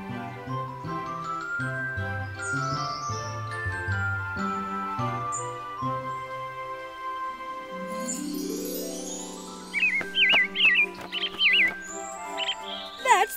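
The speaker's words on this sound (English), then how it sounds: "That little bird seems to be very upset." Agitated cartoon robin chirps in quick, bright bursts near her nest, entering after a stretch of jaunty music that ends with a rising swoop, the chirps growing busier toward the end.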